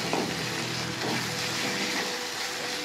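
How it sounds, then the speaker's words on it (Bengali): Turmeric, chili powder and garam masala with salt fry in a pan, giving a close, steady crackling sizzle with a soft stirring scrape partway through. "এরপর আমরা মধ্যে দেবো হলুদ, লঙ্কার গুঁড়ো, গরম মশলার গুঁড়ো, নুন দিয়ে আমরা ভালো করে এই মশলাগুলিকে আমরা কষিয়ে নেব।"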